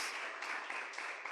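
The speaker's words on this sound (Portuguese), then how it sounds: "Você pode aplaudir ao Senhor aí bem forte" A church congregation at a communion service claps together in steady, dense applause, sustained and even, heard from a short distance.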